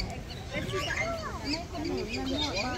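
Ducks at Dubai Safari Park give a run of nasal, wavering quacks and calls, fairly close, with people talking in the background.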